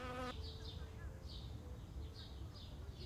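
Potter wasps give a short close buzzing drone, then scattered faint whirring bursts over quiet background noise.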